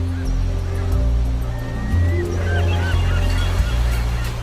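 Seagulls calling over a lonely California beach near Morro Bay, a few thin cries above a loud, steady low rumble of surf and wind.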